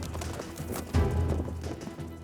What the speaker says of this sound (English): This is how the conquistadors would have ridden their horses.